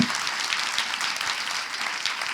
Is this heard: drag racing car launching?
no